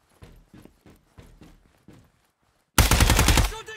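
Gunfire in the tactical shooter Ground Branch during a terrorist hunt on an oil rig: several soft, distant short bursts, then one sudden loud, close burst of rapid shots.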